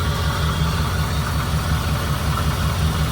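A 1989 Pontiac Trans Am GTA engine idles rough and uneven, with a close, loud, continuous rumble that lopes and knocks throughout.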